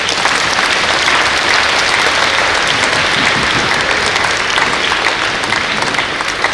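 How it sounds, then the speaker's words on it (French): Steady, dense applause from a large audience at a youth tennis tournament in Hyères, loud and continuous throughout, with no break or fading. "Donc je vous demande aussi de les applaudir."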